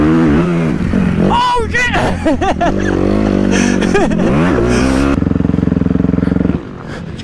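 A motocross dirt bike engine runs loud and close on a rainy track, revving and rising through gears with a sputter and clatter before stalling. A rider's voice exclaims over the engine noise.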